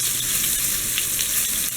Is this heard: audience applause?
no